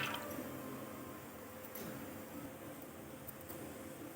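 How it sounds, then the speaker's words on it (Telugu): Soya chunks (meal maker) being washed by hand in a bowl of water, a steady soft squishing and sloshing with faint drips, close and continuous with no talk. "కొన్ని నీళ్ళు వేసుకొని ఒకసారి బాగా కడిగి పెట్టేసుకుందాం"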